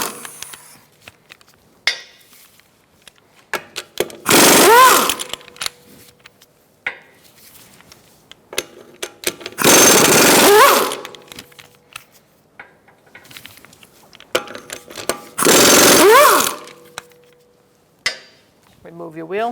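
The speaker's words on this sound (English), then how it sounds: "Using a 17mm socket, we're going to remove our wheel fasteners." A power tool spins off the wheel fasteners of a 2012-2019 Fiat 500 with a 17mm socket, in three loud broadband bursts of a few seconds each, separated by quieter clinks and handling noises.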